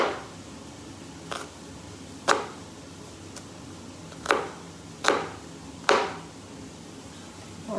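Knife slicing an onion coarsely on a cutting board at home, six sharp separate chops spaced about a second apart against a quiet kitchen background.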